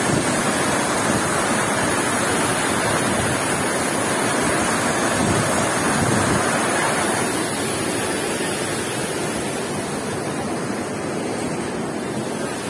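A rocky stream at Đá Đĩa in Chư Păh, Gia Lai, rushing steadily over stone, a dense, even roar of water that stays constant and fairly loud throughout.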